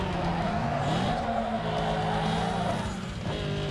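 A car engine in Need for Speed Underground 2 holds a steady, loud drone as it accelerates, with tire noise layered over it throughout.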